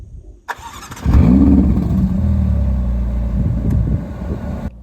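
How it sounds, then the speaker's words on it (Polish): A Ferrari California T, about ten years old, started with the push button: a sharp click, then the engine bursts to life with a loud rising rev and settles into a deep, steady idle rumble. "w tym momencie wciskam Start Engine, odpalając silnik"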